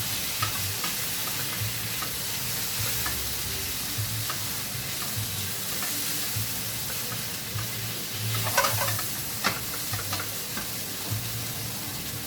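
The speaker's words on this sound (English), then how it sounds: "I'm going to add the garlic now actually." Garlic fries and sizzles steadily in a hot pan, with occasional scraping and clinks of a utensil stirring it, close and continuous without speech.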